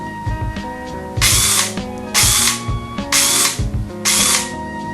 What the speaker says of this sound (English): with the gears shimmed properly, we can go ahead and test them on a battery